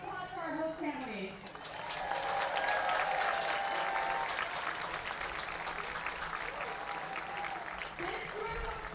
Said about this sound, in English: So please give a great round of applause for our host families.